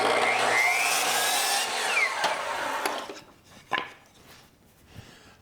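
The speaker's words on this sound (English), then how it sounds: "Let me cut this at the miter." A miter saw whines and cuts through wood for a spline jig, loud for about three seconds before spinning down, followed by a few clunks and knocks as the piece is handled.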